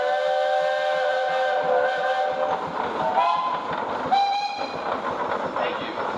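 A steam engine whistle sounding at a steam show parade, sustained tonal blasts shifting pitch over a rumbling, clattering engine, fairly near and moderately loud.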